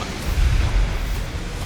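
Main guns of a warship booming in the naval strategy game Ultimate Admiral Dreadnoughts, a deep rumbling low blast that swells and fades over a moment, with no voices.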